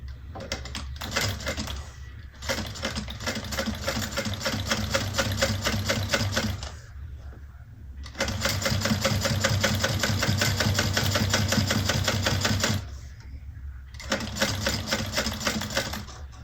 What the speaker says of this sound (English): we're top stitching at 1/8 of an inch from the ends here